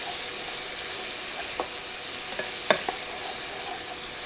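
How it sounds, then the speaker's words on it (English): Minced garlic is stirred into a skillet of pasta and sausage, steady sizzling and frying underneath a few scraping clinks of the spoon against the pan. "Stir that in."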